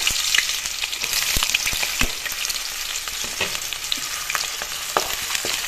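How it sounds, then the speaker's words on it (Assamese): Onions fry in hot oil in a wok-style kadai, giving a loud, continuous crackling sizzle broken by sharp pops and occasional stirring scrapes. "অলৰেডি মই কেৰাহী গৰম হ'বলৈ দি দিছোঁ, তেলখিনিও দি দিছোঁ। এতিয়া পিঁয়াজখিনি দি দিম।"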